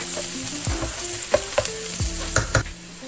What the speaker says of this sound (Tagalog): chopped garlic around 6 to 8 cloves. Saute there.